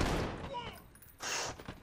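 Burst-fire weapon in Call of Duty Modern Warfare, two short, close bursts of gunfire separated by a brief lull, with game noise around them.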